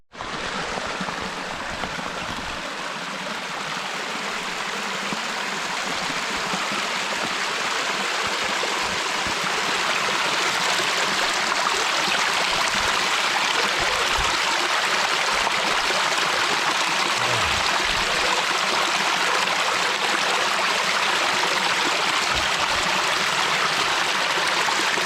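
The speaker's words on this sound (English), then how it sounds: "there's a little stream that I crossed over" A small stream near Loch Maree flows in a continuous close rush of water, steady hiss and burble throughout with no voices.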